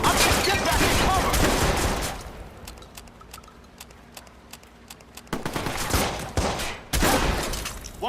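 Video game gunfire from Watch Dogs: loud bursts of shots in the opening two seconds, then scattered single cracks over a quieter stretch, with another heavy burst near the end.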